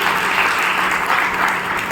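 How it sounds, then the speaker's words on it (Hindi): An indoor audience at a Brahma Kumaris health talk breaks into dense, steady clapping that fills the space, loud and continuous throughout without a break. "देवान के लिए जोर से तालियां बजाइए"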